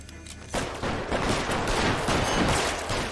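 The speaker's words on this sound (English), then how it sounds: "Oh, got one. Nice shot, Phelps" Gunfire in the video game L.A. Noire: a dense, loud burst of overlapping shots that starts abruptly after a brief quieter lead-in and keeps up without a break.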